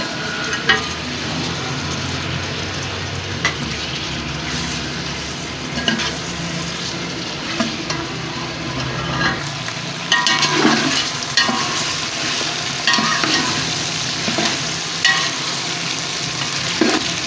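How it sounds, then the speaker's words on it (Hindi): Chicken pieces fry and get stirred in a pot for a two-kilo rice chicken pulao, a steady sizzle broken by repeated scraping and stirring strokes, close and continuous with no talk. "चिकन भी फ्राई हो चुका है"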